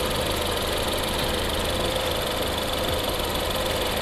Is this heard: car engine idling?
yes